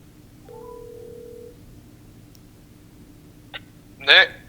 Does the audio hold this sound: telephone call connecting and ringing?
yes